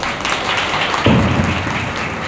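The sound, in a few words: church congregation applause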